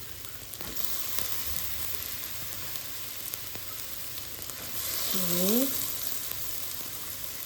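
Shredded cabbage sizzles in a pan as it is stir-fried into mie goreng, a steady close frying hiss with brief clatter, and a voice speaks a short word near the end.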